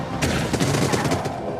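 An enemy in the video game Void Bastards fires off a rapid burst of gunshots, loud cracking reports tumbling close together over a little more than a second.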